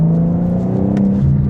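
A 2025 BMW M4 Competition xDrive pulls hard in 4th gear, its turbocharged engine droning loud and steady from inside the cabin as the revs climb, with one sharp whoosh partway through.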